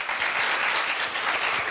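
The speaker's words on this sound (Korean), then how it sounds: "큰 박수로 모시도록 하겠습니다." A university festival audience gives a pianist loud, dense applause as she is welcomed to an upright piano. The clapping is close and continuous for about two seconds.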